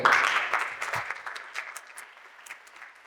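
An audience at a Pink October event breaks into applause that starts fairly strong and thins into scattered, fading claps over about three seconds.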